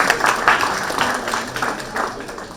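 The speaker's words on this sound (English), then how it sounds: "Can we have a round of applause for this, please?" A plenary session audience at a climate conference claps in a brief round, a moderately loud crowd patter with a voice briefly heard over it.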